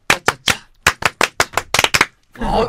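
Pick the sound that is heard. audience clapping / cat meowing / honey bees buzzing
audience clapping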